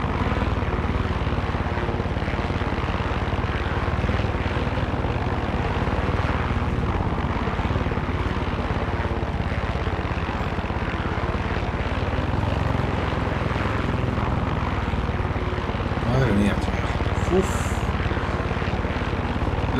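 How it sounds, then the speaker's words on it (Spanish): Helicopter flying in Far Cry 6, a continuous loud rotor and engine drone held steady for about twenty seconds, with no talk over it. "La manera de llegar con el helicóptero."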